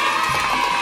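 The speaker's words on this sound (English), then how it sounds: "And if you like Gif's gingerbread train, cheer now!" Children in a church kids' program cheering loudly for a gingerbread train, a brief burst of mixed shouting and crowd noise, dense and close.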